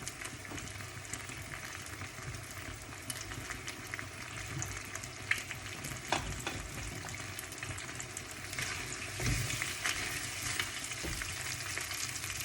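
Glass noodles stir-fried with pork belly and mixed vegetables in a pan, a continuous close sizzle with scraping stirs and bubbling, no talking.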